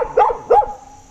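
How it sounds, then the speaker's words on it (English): A dog gives two quick, loud barks close by, each short and sharp, with a brief pause between them and no other sound. "Why are you barking?"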